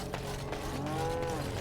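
A cow in Dragon Age: Awakening gives a single drawn-out moo, steady and moderately close, over a low game ambience with no talking.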